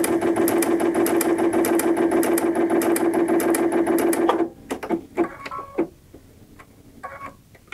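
A Baby Lock Aerial sewing machine stitching a box pattern runs with a fast, even mechanical whir and needle ticking for about four seconds, then stops, followed by a few scattered clicks and handling taps.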